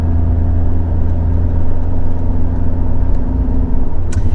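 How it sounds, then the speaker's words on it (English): A modified turbocharged Fiat 124 Spider Abarth engine rumbles steadily from inside the cabin with a low droning hum, building slightly under acceleration, with no talking. "I might as well get all the turbo sounds while I'm at it."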